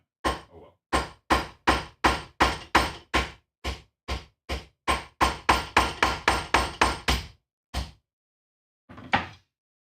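Hammer blows setting rivets while assembling a leather armor cuirass, sharp regular strikes in quick runs of about twenty, near and loud, with pauses and a final lone hit after a gap.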